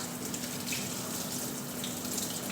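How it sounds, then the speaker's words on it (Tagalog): Dishes washed under a running kitchen tap, a steady close rush of water hitting the sink with faint clinks, continuous and even with no talking. "Maghugas ako ng plato."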